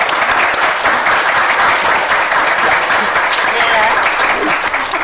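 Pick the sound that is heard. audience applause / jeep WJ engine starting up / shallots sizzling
audience applause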